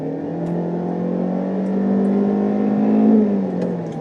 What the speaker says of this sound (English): when it finally does reach the top of the RPM range, it really does sound like it's simulating a gear